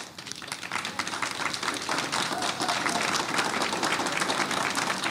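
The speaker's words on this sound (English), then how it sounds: "I did not pause for applause, but it was well-fitting." An audience at a talk on respectful, action-oriented partnerships breaks into sustained applause, a dense wash of clapping that swells and holds steady throughout.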